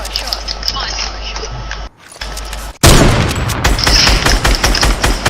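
Heavy assault rifle fire rattles in a shooter video game, a loud dense burst of rapid shots following a brief quieter gap, with steady game noise earlier.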